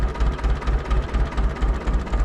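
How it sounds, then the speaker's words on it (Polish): The hydraulic pump of an Ursus tractor hums with a dense, steady mechanical drone and a pulsing, throbbing low-end rhythm, loud and close, with no voices. "Pompa zdrowa! Mruczy aż."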